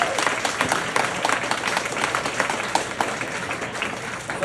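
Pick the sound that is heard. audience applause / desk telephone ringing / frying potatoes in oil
audience applause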